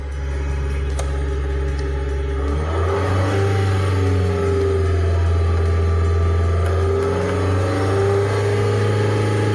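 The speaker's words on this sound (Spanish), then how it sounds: "Y vamos a presionar el acelerador a 3000 revoluciones por minuto." Car engine held at about 3000 RPM while the radiator antifreeze is being changed, a loud, steady mid-pitched hum that rises in pitch as the throttle opens and then holds constant, heard close and without talk.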